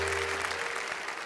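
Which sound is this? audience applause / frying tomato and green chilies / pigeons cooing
audience applause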